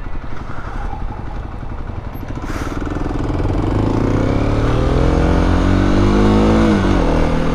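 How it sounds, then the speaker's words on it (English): A motorcycle engine revving on a friend's first bike, a rough close idle that swells into a loud, rising rev and holds a strong steady drone toward the end. "it sounds like it dies every time I pull in the clutch because I'm so used to mine."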